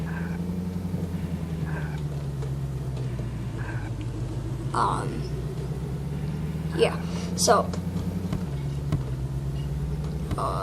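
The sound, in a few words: car engine drifting in Roblox Vehicle Simulator video game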